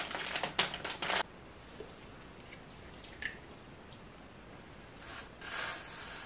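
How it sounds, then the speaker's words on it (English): Hairspray hisses onto the lace of a wig in short bursts, a quick cluster of sprays at first, then quiet, then a longer spray near the end. "So I'm just spraying some"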